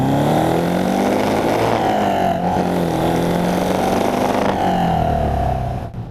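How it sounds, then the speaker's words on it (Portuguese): A Lotus Europa with the small-valve engine of about 105 horsepower accelerates hard, its engine drone rising steadily and loud throughout before easing off at the very end. "Vamos dar uma acelerada."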